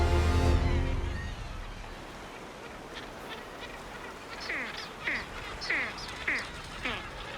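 Puffins on sheer Arctic sea cliffs in Iceland give a series of rhythmic, grunting calls that grow louder toward the end over a steady wash of wind and sea, with a voice speaking.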